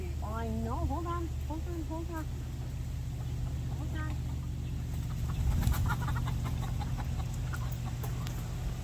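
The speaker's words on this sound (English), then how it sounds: "we're releasing the guinea now" Guinea fowl being released on a small farm, giving repeated rapid squawking calls near the start, then scattered fainter calls and rustling over a low steady hum, with people talking.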